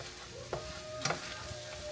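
Shrimp fried rice sizzles and crackles in a hot pan, with steady frying hiss and a few sharp scraping stirs, close and alone without talk.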